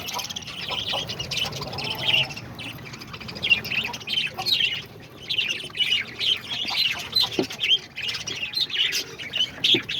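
Pet parakeets and lovebirds in an outdoor aviary chirp and squawk continuously, with busy overlapping high calls and fluttery chatter at moderate loudness.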